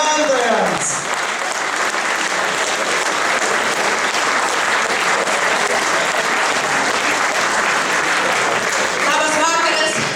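A large audience at a traditional Lithuanian folk band festival applauds steadily for about ten seconds, dense and loud throughout with no letup, and a voice speaks briefly at the start and end.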